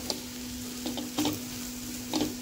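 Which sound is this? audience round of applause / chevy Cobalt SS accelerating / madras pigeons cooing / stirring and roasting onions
stirring and roasting onions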